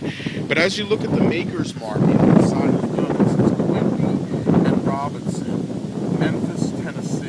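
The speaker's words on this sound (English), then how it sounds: "you have to pardon the wind, it's a very windy day." Someone talks steadily outdoors while gusts of wind buffet the microphone, rumbling low beneath his voice throughout.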